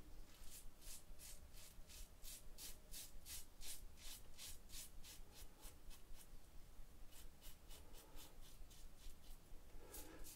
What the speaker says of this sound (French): La première passe avec le peigne ouvert là, en douceur.